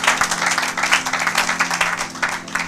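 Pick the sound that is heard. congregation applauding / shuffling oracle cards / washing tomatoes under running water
congregation applauding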